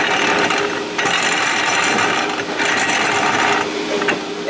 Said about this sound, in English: go ahead and get your spring compressor all lined up here. Go ahead and get that on quick.